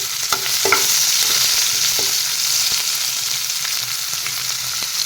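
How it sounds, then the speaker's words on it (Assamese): Onions hiss and sizzle loudly and steadily in hot oil close by, with intermittent scraping and tapping as they are stirred around the pan. "তেলখিনিতে পিঁয়াজখিনি দিম।"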